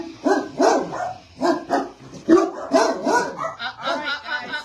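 A dog barks repeatedly indoors in a house, sharp and close. The barks come in an excited, uneven run with yips mixed in.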